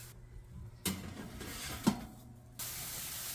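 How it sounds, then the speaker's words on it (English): Short hissing bursts from a spray bottle misting water over scored mini baguette dough before it goes into the oven, two or three quick sprays, soft and close, no voices. "Scoring them, spraying some water, preparing the water bath."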